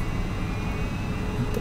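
Twin engines of a Boeing 777-200R in a flight simulator roar steadily as the jet accelerates down the runway, a broad continuous rumble with a faint high whine running through it.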